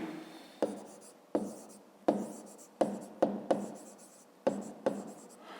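A pen scratches out handwritten strokes on paper, eight or nine short bursts in an uneven rhythm, close and clear with nothing else over it.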